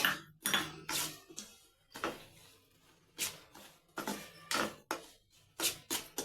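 Bombay rava (semolina) roasting in ghee in a pan, with a spoon scraping and clinking against the metal in uneven, close strokes separated by brief quiet gaps.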